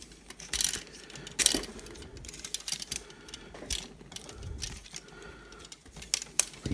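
Plastic parts of a Mastermind Creations R-25 Oberon toy robot are folded down at the waist, cockpit and backpack, making scattered close clicks and small ratcheting snaps in bursts, without any talk.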